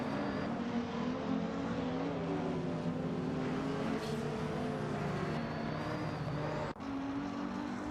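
Engines of retro supercars in an AI racing simulator game drone steadily throughout, several cars' overlapping tones rising and falling together as the race gets underway, loud and constant with no talking.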